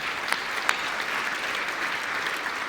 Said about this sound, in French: on peut les applaudir très fort aussi